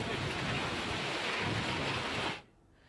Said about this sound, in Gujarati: બોટાદમાં ભારે પવન સાથે વરસાદ